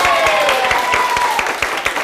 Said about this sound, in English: A round of applause for Bob.